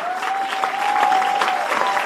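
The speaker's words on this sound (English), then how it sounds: "Sure, there was applause" Steady crowd applause for a potential anti-Trump presidential candidate at a political event, loud and continuous through the whole moment, with a faint tonal whine running beneath the clapping.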